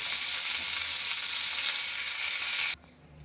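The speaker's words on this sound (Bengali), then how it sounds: "চিকেন আমি একটু ভেজে নিই" Chicken pieces fry in a pan with a loud, steady broadband sizzle that runs continuously, then cuts off abruptly near the end, leaving quiet room tone.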